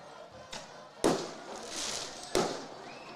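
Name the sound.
fireworks at a high school football game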